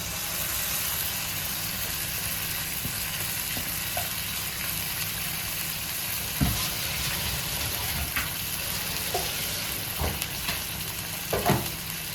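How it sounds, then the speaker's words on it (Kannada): Thick prawn ghee roast masala in a pan, Mangalorean style, sizzles steadily as water is added to thin it. Broadband frying hiss runs continuously, with a few louder clinks and stirring knocks near the end and no talk. "ಈಗ ನಾನು ಸ್ವಲ್ಪ ನೀರು ಸೇರಿಸ್ತಾ ಇದ್ದೇನೆ, ತುಂಬ ದಪ್ಪ ಅಂತ"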